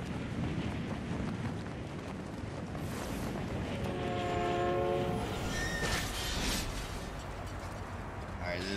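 A train in Super Smash Bros. Melee played through Slippi rumbles continuously and loudly with a horn blast partway through, amid game effects, with a voice speaking over it.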